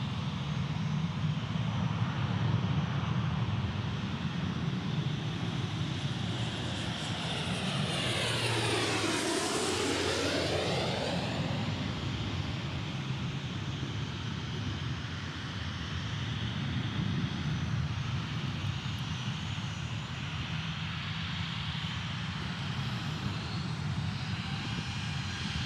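Beechcraft King Air 300 twin-turboprop at Dallas Love Field, a steady propeller and engine roar with a sweeping pitch shift as it passes close by, loud and continuous throughout.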